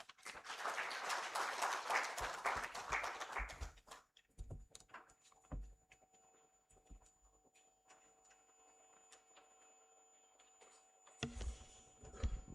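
An audience at a ceremony for African chief justices applauds briefly for the Chief Justice, a burst of clapping fading after about four seconds into scattered isolated claps and quiet, with another short flurry near the end.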